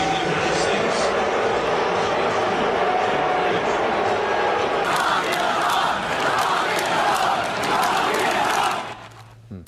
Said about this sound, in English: politicians being booed at baseball games is nothing Nothing new